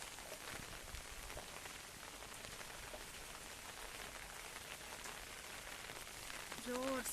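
Torrential rain drums continuously in Bhubaneswar, Odisha, a loud, even wash of raindrops on surfaces with no voices, swelling slightly louder near the end.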